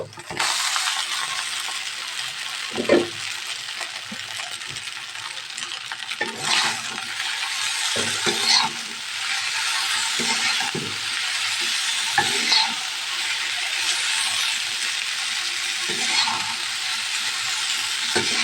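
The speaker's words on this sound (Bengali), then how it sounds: "তারপর আমি এখানে নুডলসগুলো দিয়ে দেবো" Noodles stirred into a pan with vegetables and softened tomato: a steady, close hissing sizzle runs throughout, broken by intermittent clinks and scrapes of a utensil against the pan, with no talk.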